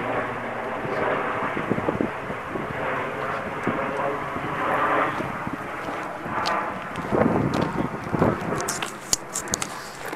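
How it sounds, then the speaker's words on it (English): An aircraft passes over an outdoor nature area near London City Airport as a steady, distant roar, with wind buffeting the microphone, some footsteps and a voice faintly underneath. "London City Airport, you get a lot of aircraft flying over, so a lot of noise pollution"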